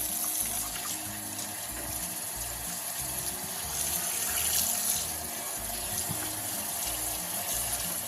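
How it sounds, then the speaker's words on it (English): Cold tap water runs steadily over cured bacon in a kitchen sink, a continuous close gushing splash with shifting rhythm as the meat is rinsed. "We're gonna turn on the cold water and we're gonna rinse this off."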